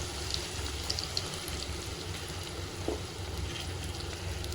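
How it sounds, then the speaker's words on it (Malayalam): Sliced onion, ginger and green chilli sauté in hot oil after mustard seeds have popped, giving a steady, low, even sizzle with no talking. "ഇനി കുറച്ച് സവാള, ഇഞ്ചി, പച്ചമുളക് ഇതെല്ലാം ഇട്ട് നന്നായിട്ടങ്ങ് വഴറ്റിയെടുക്കണം"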